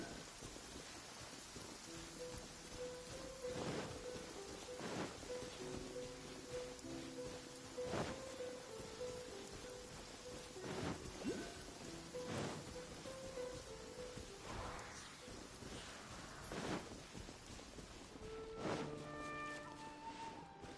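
Rain falls in the Genshin Impact video game, a soft, steady patter with occasional sharper drops, faint and even, with brief tonal sounds drifting above it.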